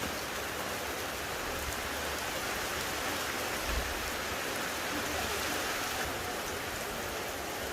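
Steady, even rain falls outdoors for the whole stretch as a dense, constant hiss with no pauses and no voices.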